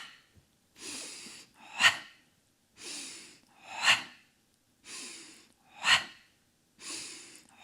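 Rhythmic breathing during a Pilates core exercise with a ball, alternating soft inhales and sharper forceful exhales in a steady repeated pattern, close and fairly quiet, with no speech.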